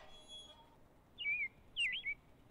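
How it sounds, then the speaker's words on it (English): Two short, bright chirping calls from a small pet bird in the simulation game Robin, heard alone against a quiet background with a brief pause between them. "We have a little bird named Robin."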